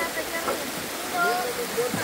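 Steady broadband rush of river water flowing, with faint distant voices and a few tonal calls over it during an outdoor car wash at a river.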